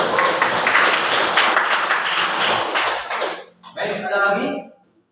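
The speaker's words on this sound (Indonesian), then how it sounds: "Tepuk tangan." Classroom applause from students during an Islamic studies lesson, dense clapping for several seconds before it stops abruptly, followed by a voice speaking.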